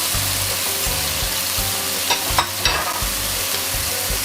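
Tofu and holy basil stir-fried in a pan for a vegetarian pad krapow, a continuous loud sizzle broken by a few sharp bursts of scraping and tossing near the middle, no talking.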